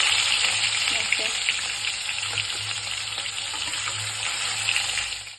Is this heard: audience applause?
no